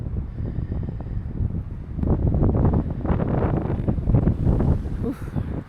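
A headwind buffets the microphone while bikepacking near the Sibbald Flats area, a gusty low rumble that strengthens partway through and stays loud and close to the end.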